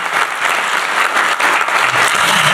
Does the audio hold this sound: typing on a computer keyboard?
no